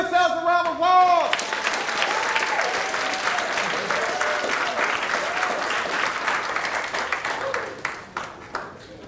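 An audience at a student government event applauds, a dense burst of clapping that swells quickly, then thins and tapers off, with a speaking voice audible over the opening moments.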